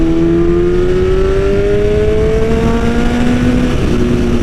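A carbon BMW S1000RR motorcycle pulls hard in sixth gear, one steady rising engine tone building continuously over strong wind rush, loud and close, with no talk.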